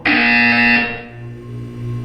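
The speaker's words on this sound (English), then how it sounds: "When you hear the buzzer, look down at the floor." A loud, harsh electronic buzzer in Portal 2 sounds once for under a second, then fades into a low hum.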